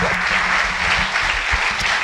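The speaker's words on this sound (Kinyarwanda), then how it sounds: "Komera amashyi menshi Pastor Yves." A church congregation applauds a pastor, dense and steady clapping from many hands that carries on without a break.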